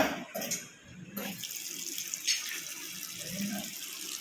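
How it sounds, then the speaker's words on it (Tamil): Household water tap running after its valve is opened during a low-flow pipe repair; a few clicks and clatters come first, then a quiet steady stream of water flows. "பாருங்கள், ஸ்பீடாக வந்து தண்ணி வர ஆரம்பிச்சிருச்சு."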